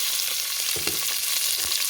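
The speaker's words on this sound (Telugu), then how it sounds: "చూసారు కదా, చిట్టుపట్టం అంటున్నాయి కదండి, ఆనియన్స్ కూడా వేసేసుకుందాం." Seeds crackling and onions frying in hot oil for idli sambar, giving a constant close sizzle with a few soft stirring knocks.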